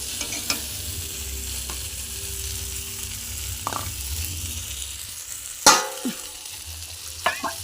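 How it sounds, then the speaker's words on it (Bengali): Eggplant fries in a pan with a constant soft sizzle, broken by a few scattered scrapes and one louder clatter of a utensil turning the pieces. "লাল লাল করে বেগুনটা ভেজে নিতে হবে।"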